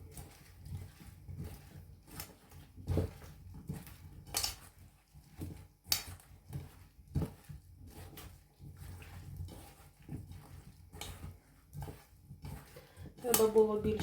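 Salad being stirred with mayonnaise in a bowl, with repeated clinks and scrapes of a utensil against the dish in an irregular rhythm and soft voices in the background.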